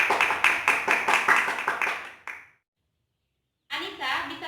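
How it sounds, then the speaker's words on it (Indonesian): Classroom applause for two student presenters after their talk in a microteaching lesson, a couple of seconds of small-group clapping that stops abruptly, then a pause before voices resume. "Tepuk tangan buat mereka."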